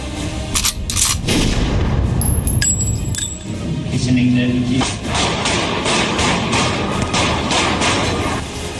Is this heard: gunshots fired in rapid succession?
yes